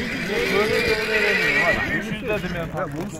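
A loud, drawn-out horse whinny rises and falls at a horse sale, with hoof clopping and people's voices around it.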